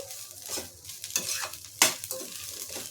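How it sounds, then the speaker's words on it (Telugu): Egg fried rice is stirred in a frying pan, irregular scraping strokes of a spoon against metal over a low sizzle, close and fairly loud, with one sharp clank near the end. "ఆ తర్వాత మంచిగా మిక్స్ చేయండి."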